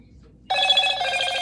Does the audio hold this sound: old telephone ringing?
yes